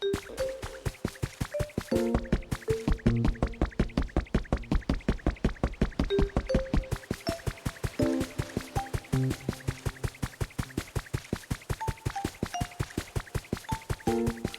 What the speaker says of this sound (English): Should also water this land as well a bit.